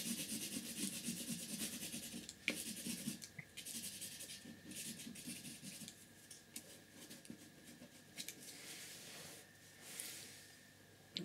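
Oil pastel scrubbed back and forth on paper, a soft, continuous dry rubbing and scratching heard close up and quiet, in steady strokes that fade toward the end.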